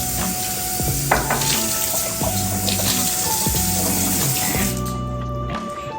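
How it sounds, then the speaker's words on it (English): Tap water runs steadily into a kitchen sink while cherries are rinsed, with a continuous splashing hiss and occasional clinks and knocks close by. "Can you rinse those really quick, please?"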